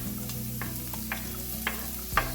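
Shallots sizzle steadily in hot vegetable oil over medium heat, a continuous frying hiss broken by a few soft stirring scrapes, close and moderately loud with no voices.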